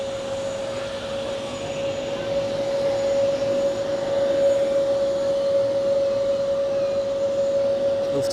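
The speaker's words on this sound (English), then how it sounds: "And here we have Lufthansa arriving from Frankfurt, I guess. Yes, Frankfurt, an A320." Lufthansa Airbus A320 arriving from Frankfurt at Zurich Airport, a steady distant jet whine with a sustained tonal hum, heard alone at moderate level.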